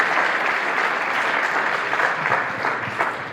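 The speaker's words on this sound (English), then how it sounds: "I want to ask you to give a special round of applause for Sai" Audience applause at a Hindu Council Australia community event, a steady, dense wash of clapping from a full room that holds at an even level for the whole stretch with no talking over it.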